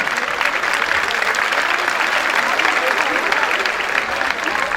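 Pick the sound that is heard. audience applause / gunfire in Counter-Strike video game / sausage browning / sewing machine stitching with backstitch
audience applause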